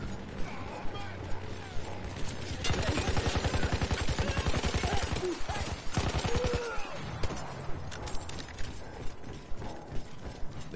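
Trench gun fire in the World War I shooter Battlefield 1, a dense stretch of rapid, loud shots with clattering battle noise in the middle and steadier single blasts before and after.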